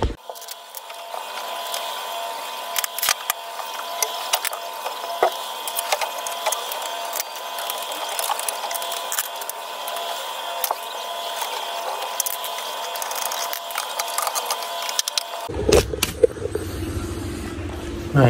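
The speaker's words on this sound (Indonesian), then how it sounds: "Oke, kita bongkar dulu motornya." A ratchet wrench clicks rapidly and repeatedly while a motorcycle is taken apart, a close, busy metallic ratcheting that continues for most of the stretch before giving way to a lower mechanical rumble at the end.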